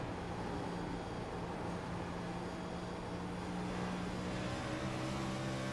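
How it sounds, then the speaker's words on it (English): A race car engine roars from the in-car camera in a sim racing oval game at Rockingham Speedway, a loud, continuous droning hum with a steady pitch throughout, no talking. "you can see and hear him, Michael Samia, hanging on to that car"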